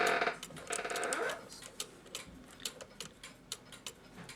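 A cuckoo clock mechanism ticks out of beat, its uneven tick-tock clicks sounding close and distinct, with a brief louder mechanical rattle at the start.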